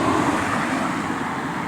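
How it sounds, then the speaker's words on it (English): Cars passing on a road through the giant sequoia forest of Sequoia National Park, California, a steady close roar of tyres and engines rolling by without a break. "let's let these cars go by"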